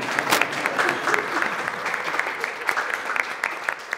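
An audience applauds at a hidden-camera surprise show, with dense, continuous clapping from a crowd that holds steady throughout without a break.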